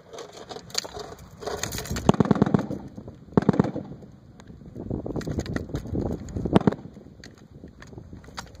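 .50 caliber machine gun firing: repeated heavy bursts of rapid, pounding shots come in clusters with gaps between them, loud and close, over an outdoor mix.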